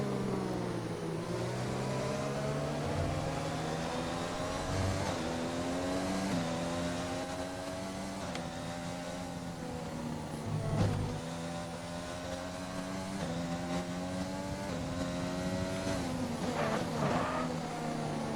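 Formula 1 car in an F1 video game, engine whining and shifting through gears with rising and falling revs, steady and close throughout, plus a brief low thump midway.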